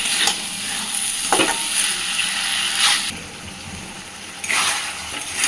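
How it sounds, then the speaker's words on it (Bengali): Potatoes sautéing with masala for aloo dum: a steady, close sizzle of spices frying in the pan, broken by a few sharp scraping stirs, with no talking. "মশলাটা দেওয়ার পরে আরও মিনিটখানে সুন্দরভাবে কষতে থাকবে।"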